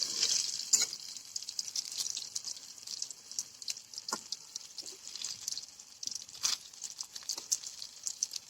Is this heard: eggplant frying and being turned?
yes